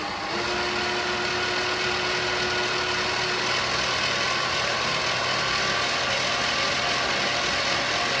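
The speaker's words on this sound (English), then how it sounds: "I've just changed from a whisk to a K-beater." A stand mixer fitted with a K-beater churns shortbread dough, a steady close motor drone with a constant hum and slight rattle running the whole time, no talk.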